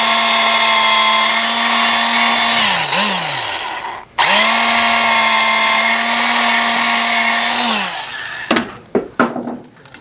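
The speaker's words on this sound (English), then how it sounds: "drill a couple holes in here to hold everything in place" A power drill whines steadily as it bores holes into a wooden pepper mill, dipping under load, pausing briefly, then running again before a few clunks at the end.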